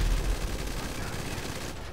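Machine-gun fire in GTA V Online sounds as a dense, continuous rattle of shots that fills the moment, loud and steady before easing slightly at the end.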